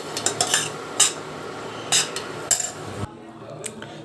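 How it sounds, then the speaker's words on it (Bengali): A spoon scrapes and clinks against a pot while oat flour is stirred into hot water, in a few scattered metallic knocks and strokes before the sound cuts to near silence. "এবার আমি এই জলের মধ্যে এই আটাগুলোকে ছেড়ে দিয়ে এমন করে নাড়ব।"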